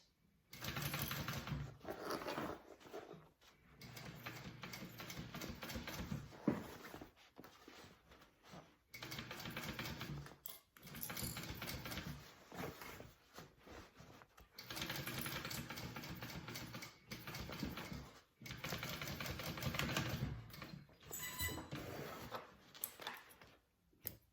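A sewing machine stitches the base onto a slouchy hobo bag in repeated bursts of steady whirring, each run lasting a few seconds and broken by short pauses.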